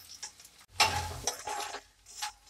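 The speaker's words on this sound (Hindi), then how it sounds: "गोंद मीडियम फ्लेम पर ही भूने, तभी अच्छी तरह से पकता है।" Edible gum (gond) roasting in a pan over a medium flame, heard as intermittent scraping stir strokes and brief crackling bursts separated by quiet pauses, close and fairly soft.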